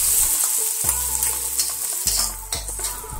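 Garlic sautés in hot oil in a wok, a loud steady sizzle with repeated scraping stirs of a utensil against the pan, close up and without talk.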